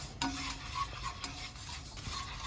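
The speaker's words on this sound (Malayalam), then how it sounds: "ഫ്ലെയിം ഓഫ് ചെയ്തതിന് ശേഷം നമ്മളിങ്ങനെ നന്നായിട്ട് ഇളക്കിക്കൊണ്ടിരിക്കണം കുറച്ച് സമയം." Grated coconut stirred in a hot pan with the flame off gives soft, repeated scraping and rustling strokes over a faint sizzle, quiet and close, with no voices.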